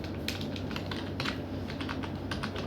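Bangla text is typed on a computer keyboard in Microsoft Word, a quick irregular run of light key clicks close by, alone and without any talk.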